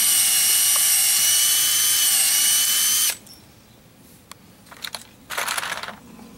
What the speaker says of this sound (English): put this fungicide directly into the vascular system of the tree through drilling